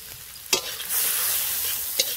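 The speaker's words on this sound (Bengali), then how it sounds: "মশলাটাকে ভালো করে কষিয়ে নেব।" Ground coriander and chili powder fry in a pan for a shrimp bhorta and crab curry, a sharp clink of the spatula followed by a loud, steady sizzle and another stir near the end.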